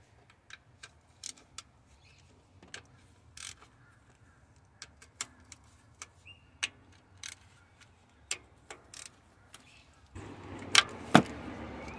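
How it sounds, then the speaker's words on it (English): A ratchet loosens valve cover bolts on a 2006–2012 Toyota RAV4 with the 2.4L engine: sharp, isolated metallic clicks and ticks in an irregular rhythm, close and fairly quiet, ending in a louder burst of handling noise. "Okay, now I can proceed to take out all the bolts."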